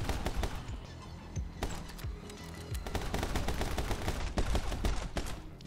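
Rapid gunfire in the action game My Friend Pedro, dense volleys of sharp close shots in fast bursts, nearly continuous with short gaps, over a low musical backing.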